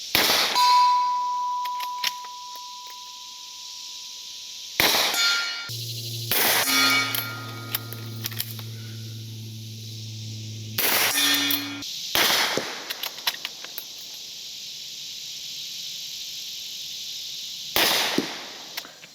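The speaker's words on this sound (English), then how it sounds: "Granted, I'm shooting subsonic, but with the 350 Legend" Subsonic 350 Legend rifle shots through a B&T suppressor, several sharp, clanging reports spread irregularly across the clip with ringing tones and quiet gaps between them, no talk.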